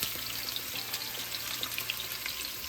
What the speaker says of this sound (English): So we're putting the onions in, the garlic in.